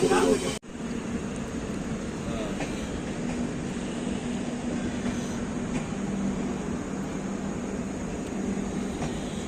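A passing train rumbles steadily nearby in a continuous low roar lasting several seconds, heard from a halted express train in India, with faint voices murmuring in the background.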